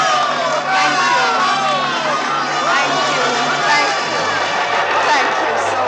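Frenzied applause and cheering from a large theatre audience in a noir radio drama, a dense continuous roar of clapping and excited crowd voices sustained loudly throughout without a break.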